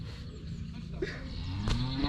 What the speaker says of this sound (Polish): Krowa tam buczy.